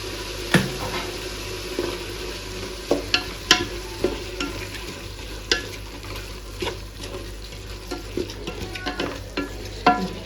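Ginger garlic paste frying in a pan for tomato bath, a continuous sizzle broken by repeated sharp scraping and clinking strokes of a spoon stirring against the metal, close and fairly quiet.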